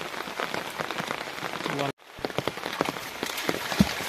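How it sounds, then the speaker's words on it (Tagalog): Heavy rain pours down outdoors during a magnet-fishing scrap hunt, a dense, steady hiss of drops hitting surfaces that cuts out for a moment before continuing with scattered heavier splashes. "Ang lakas lang talaga ng ulan eh."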